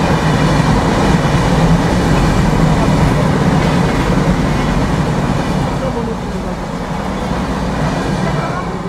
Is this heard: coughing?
no